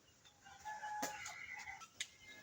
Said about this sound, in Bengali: শালিক পাখির বাচ্চা।